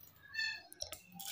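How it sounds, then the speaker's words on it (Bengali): Crisp fried sago papad snapped by hand at close range, giving a few sharp, brittle cracks clustered near the end of a quiet moment. "একটা পাঁপড় আমি ভাঙছি,"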